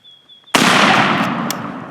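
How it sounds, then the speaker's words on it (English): A single loud, close shotgun blast fired at a wild turkey during an opening-day Kentucky turkey hunt, a sharp crack with a long rolling decay that fills the rest of the moment. "Raise up and shoot, Jerred."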